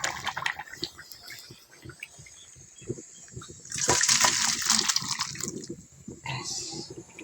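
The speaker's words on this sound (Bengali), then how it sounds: "এখন আমি কড়াটা নামিয়ে ঢেলে নেব।" Fish curry with potato, pointed gourd and Malabar spinach stems is poured from a kadai, a brief splashing gush of liquid after quieter clinking and stirring, fairly close.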